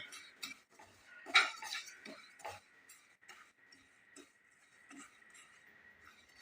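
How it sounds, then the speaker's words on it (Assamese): Three spoonfuls of white sesame seeds dry-roast in a wok, heard as faint, scattered metallic clinks and light ticks from stirring, close and unhurried, with no talking. "এতিয়া এইখিনি মই তিলখিনিও ভাজি ল'ম।"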